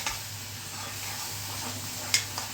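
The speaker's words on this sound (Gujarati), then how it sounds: "મેં વઘારીને હવે હું ફ્રાય કરીશ" Tempered gravy frying in a pan for Punjabi-style chana dal, a steady low sizzle with faint hiss and a brief clatter near the end, no talking.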